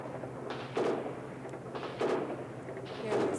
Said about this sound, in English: You can hear some more gunfire from the back of the White House building.